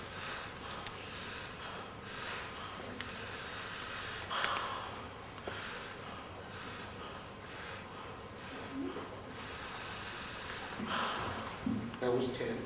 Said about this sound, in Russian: So we'll just do 20 connected breaths together.